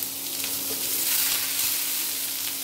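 Raw onions hit hot oil with a bay leaf and chilli, producing a dense, even hiss of frying close by, steady and loud without speech.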